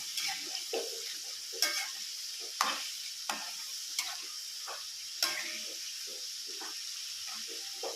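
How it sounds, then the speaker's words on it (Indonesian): Eggs for telor balado frying slowly in a pan of oil, a steady soft sizzle broken by sharp pops and ticks, heard close with no talking. "Kita goreng perlahan-lahan."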